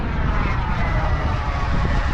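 A Global Jet Club Hummingbird RC model jet with an ACEx-80 turbine flies slowly into the wind, giving a steady, loud, continuous jet roar and rushing wind noise with no speech.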